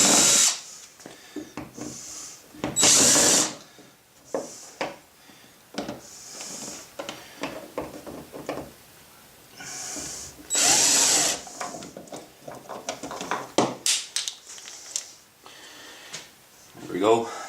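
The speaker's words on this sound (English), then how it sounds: "I'm just going to take the 3 screws and remove that." A power driver whirring in short bursts to remove three screws from a Lowrance ready mount on a kayak, with pauses between bursts and someone talking throughout.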